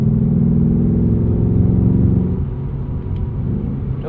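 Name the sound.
2024 Ford Mustang GT engine accelerating, exhaust in track mode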